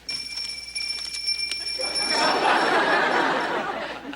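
A hand bell rings near the start in a sitcom household, giving a few bright metallic strikes. A broad roar of audience laughter and chatter then swells over it.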